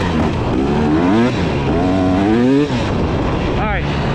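A dirt bike, a Beta, ridden off-road, its engine revving and rising in pitch through the gears, steady and close, with a brief dip before climbing again.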